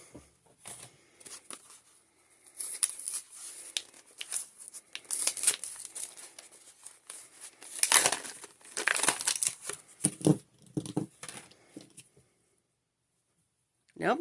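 Sheets of paper crinkling and rustling as they are handled and crumpled, close and steady over several seconds, with quiet pauses between bursts and brief talk at times.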